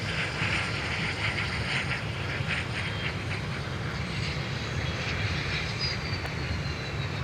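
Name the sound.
Airbus A330 jet airliner at MSP airport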